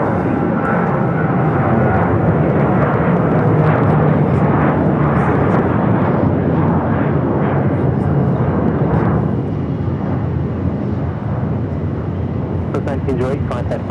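Southwest Airlines jet taking off from runway 7 left at Phoenix Sky Harbor, a loud, steady engine roar holding throughout, with radio chatter between the tower and the pilot mixed in.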